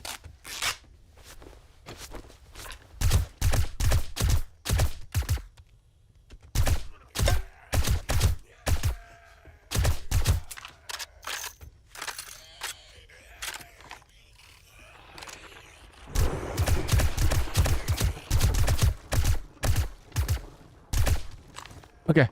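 Automated turrets open fire in an asylum survival video game, loosing rapid clusters of sharp gunshots in repeated bursts, with brief pauses between volleys and a dense, sustained barrage near the end.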